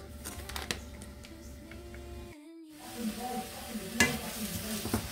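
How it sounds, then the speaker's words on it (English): Vegetables for chicken ramen cooking in a pan, a soft steady sizzle with stirring clicks and a brief dropout midway, then sharper scraping, with a voice speaking over it. "So our veggies is cooking nicely."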